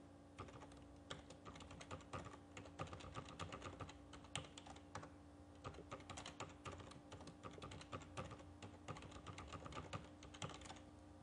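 Steady typing on a computer keyboard while form data such as a name and email is entered, faint and continuous for several seconds over a low background hum.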